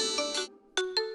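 A mobile phone ringtone chimes in short repeated electronic bursts, a few quick tones with brief pauses between them, fairly clear and close with no talk over it.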